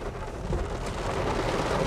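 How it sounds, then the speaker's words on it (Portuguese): Heavy rain pours steadily with low rumbling beneath it, loud and close, recorded during a muddy off-road test of a new Mitsubishi L200 pickup; no voices. "Agora a chuva pegou, hein, pai?"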